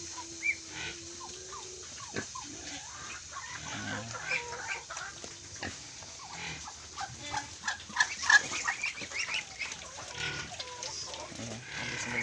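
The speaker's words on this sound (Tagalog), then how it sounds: "Yung mga makukulit na mga itik." Ducks on a rural farm that also keeps native pigs call constantly in busy, overlapping short bursts, moderately near and steady throughout, with no talking.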